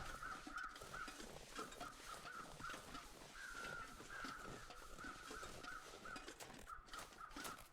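Crows in the video game The Long Dark caw over and over in a rhythmic series of harsh calls lasting the whole stretch, set against a soft windy background with no talk.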